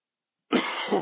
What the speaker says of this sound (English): Because I have a coughing attack?